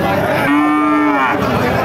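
A single drawn-out cow moo at a rural cattle market, loud and close, with a faint murmur of the market crowd behind it and no talking.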